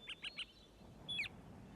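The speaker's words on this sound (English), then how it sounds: "He heard birds singing." Birds chirp faintly and fairly close in quiet surroundings: three quick evenly spaced high chirps, a short pause, then one longer sweeping call.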